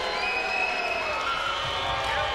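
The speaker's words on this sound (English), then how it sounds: "Of course, a boo from the crowd." A loud arena crowd at a wrestling match roars steadily with booing mixed into the dense noise, filling the whole moment without a break.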